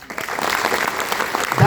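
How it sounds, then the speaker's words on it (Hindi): A crowd in Gonda claps together on cue for a motivational speaker, a dense, steady burst of applause that swells toward the end. The clapping sounds loud and close, with no talking over it. "अब जब भी बोलूं ताली बजाओ तो कैसे बजाओगे?"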